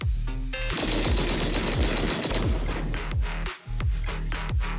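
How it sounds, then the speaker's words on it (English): Heavy cannon fire in the video game Zenless Zone Zero, rapid booming blasts repeating over a dense roaring wash of combat noise, with a brief drop partway before the pounding resumes. "That was the sound of a heavy cannon?"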